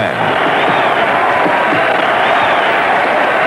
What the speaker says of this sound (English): The crowd goes wild as George tries to press his advantage.